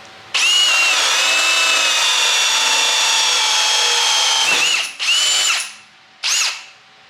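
A brushless Ryobi drill set to speed 2 drives a small VEVOR hole saw, making a loud, close, high whine that holds steady for over four seconds. Two short bursts follow as the cut finishes.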